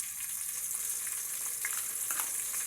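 Ginger garlic paste fries in hot oil in a pan, giving a steady, faint hiss and crackle that runs without a break and with no voices.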